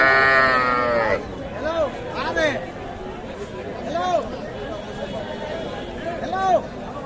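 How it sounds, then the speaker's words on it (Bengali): A very young calf, its mother cow dead, bleats repeatedly at a livestock market, with several loud calls spaced a second or two apart over a steady murmur of crowd chatter and nearby talk. "একেবারে ছোট বাচ্চা, মায়ের জন্য কিন্তু তখন থেকে মা মা করে কিন্তু চিল্লাচ্ছে উনি"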